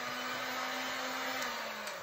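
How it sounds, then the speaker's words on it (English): Heat gun blowing over resin art, a steady, even rushing whir of hot air with a faint motor tone underneath, continuous and fairly close without any talk. "my heat gun's plugged in and ready to go"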